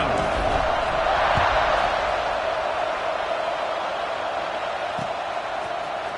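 A football stadium crowd waits for the kickoff of a college game against Michigan, a steady, dense roar filling the stands beneath a commentator talking throughout.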